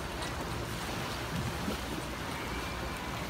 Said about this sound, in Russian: Заметьте, что даже волны им делают.